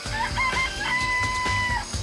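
Chickens clucking in the Danganronpa video game, a steady run of fowl calls with rooster-like crowing tones, close and fairly loud with no talk over them.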